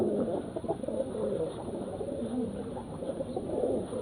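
Domestic pigeons of old Rajshahi white and fotka breeds coo softly and continuously nearby, low throaty murmurs overlapping with no pauses.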